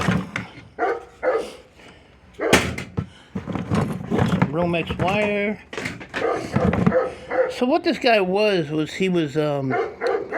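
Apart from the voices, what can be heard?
dog barking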